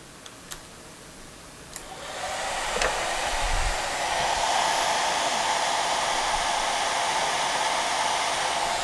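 A hair dryer powered from a Bluetti EB70 portable power station, set to medium fan and high heat; a few faint clicks come first, then the blower switches on into a steady, close whooshing hum.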